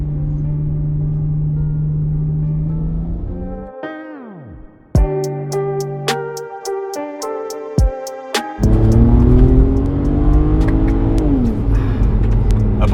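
BMW 335i with N54 engine and dual cone intake accelerating while merging onto a highway, a loud close engine rising through several gears with sharp shifts, then a strong sustained pull.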